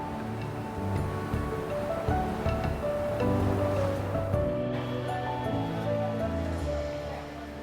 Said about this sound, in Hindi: लहरें समुद्र की आ रही है ना, ये जगह है एंजॉय करने के लिए